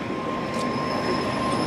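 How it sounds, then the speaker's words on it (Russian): A Ufa–Moscow passenger train rumbling steadily nearby, with a thin high-pitched whine over the continuous low roar of the cars. "Это наш поезд. Это Уфа-Москва."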